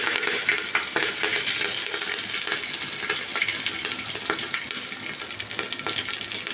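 Mustard seeds and spices sizzle and crackle in hot oil during a South Indian tempering for rasam, a dense steady frying hiss with scattered sharp pops, close and continuous with no talking.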